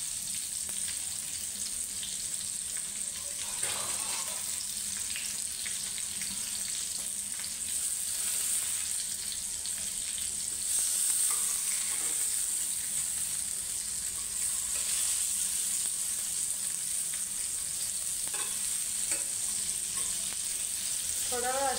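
Masala with eggplant fries in a pan, giving a soft, steady sizzle that carries on evenly throughout with faint stirring.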